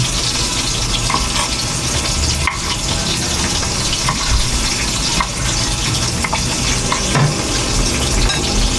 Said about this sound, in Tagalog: Habang inaantay natin maluto ang ating pritong talong